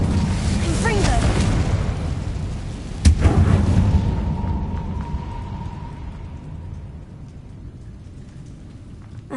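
A Confringo explosive spell blast in Hogwarts Legacy erupts as one sharp loud boom partway through, over a dense rumbling game soundscape, then a long fading ring and hum.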